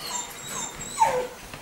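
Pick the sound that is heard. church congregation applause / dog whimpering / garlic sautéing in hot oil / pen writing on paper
dog whimpering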